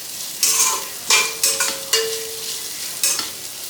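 Onions sautéing in a pan for tomato rice, with a steady background sizzle broken by a handful of sharp scraping stirs, each a brief clatter of a spoon against the metal; close and moderately loud, no talking.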